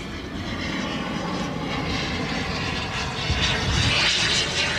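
Aeroplane flying a display at the LMA Elvington Airshow, a loud, sustained engine drone that swells and brightens toward the end as it passes, with no speech.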